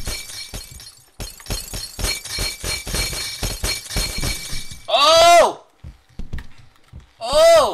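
A glass bottle falls and shatters in the Happy Wheels video game, heard after a stretch of excited talk. Two separate bursts of breaking glass ring out, loud and close, one in the middle and one at the end.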